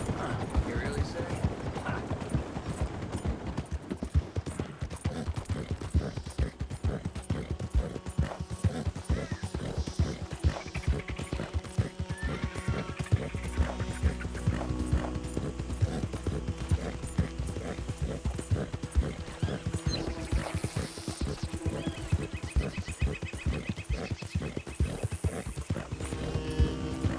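Horse hooves clip-clopping steadily in the Red Dead Redemption video game, a continuous rhythmic trot heard up close with occasional whinnies and a voice talking over it.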